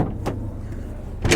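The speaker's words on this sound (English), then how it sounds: "we'll lower the tailgate for you." Ford F-150 police truck power tailgate lowering: a short motorized whir with brief clunks at the start and end, close by and without talk.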